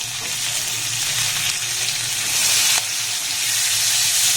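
Thinly sliced onion and three or four green chillies fry in hot oil, producing a continuous close sizzle with faint scraping from stirring and one brief sharp knock near the middle, without any talking.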